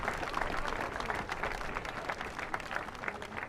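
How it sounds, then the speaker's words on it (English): Dense, steady applause from a large crowd at an outdoor Black Lives Matter rally in Augusta, Maine, a continuous wash of many hands clapping with scattered cheers mixed in. "So give yourselves a round of applause for being here right now."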